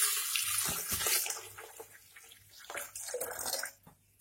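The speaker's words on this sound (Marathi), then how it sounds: "पाणी घालूया." Water poured for a mint and ginger lemonade, a close, steady splashing stream that dips midway and then swells again before stopping, with no talk over it.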